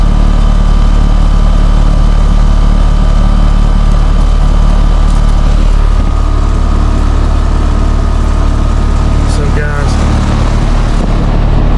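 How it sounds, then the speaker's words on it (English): A PSC fan motor on a seven-year-old Carrier air conditioner runs with a loud, steady hum and whir throughout. A brief rattling chirp cuts in near the end. "That's a PSC motor in a 7-year-old Carrier"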